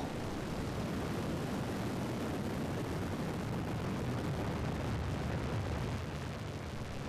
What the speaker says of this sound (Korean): 4초, 3초, 2초, 1초, 발사.